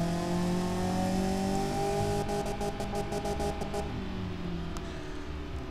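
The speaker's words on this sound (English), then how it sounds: "This engine's very quiet because of the double mufflers." A simulated car engine with double mufflers runs in the game Automation, a muted, steady hum with engine harmonics that rise slightly before easing, then a few quick clicks.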